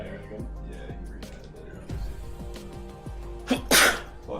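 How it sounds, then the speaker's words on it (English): One sharp sneeze comes near the end, loud and close, after quiet background clatter and faint tapping. "And now I'm sneezing."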